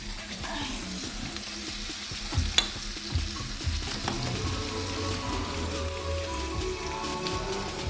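Pork steak fajita strips fry in a hot pan, a steady close sizzle and crackle with occasional stirring scrapes and clinks, no talking.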